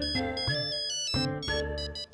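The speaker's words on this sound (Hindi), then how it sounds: "अब ये किसका बखत का फोन आ गया?" A phone ringtone plays a repeating electronic melody in bursts, fairly quiet and alone.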